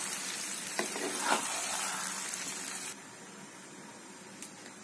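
A yogurt chicken curry frying and being stirred in a pan gives a loud continuous sizzle with a few spoon knocks, then it quietens to a softer hiss near the end; no voices.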